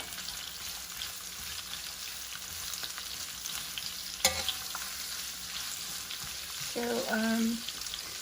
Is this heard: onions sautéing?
yes